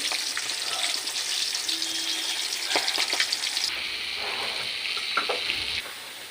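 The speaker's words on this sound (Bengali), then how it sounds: "মাছ ভাজার সাথে সাথে আমি একটু নিম পাতা ভেজে নিলাম" Fish and neem leaves frying in hot oil in a wok, a steady close sizzle with crackling spits and occasional stirring scrapes throughout.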